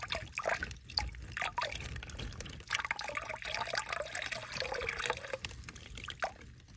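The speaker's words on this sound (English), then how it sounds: "Dump some water in the bag." Water is poured and splashed into a plastic fish bag, with faint irregular trickling and sloshing continuing close by for several seconds and no talking.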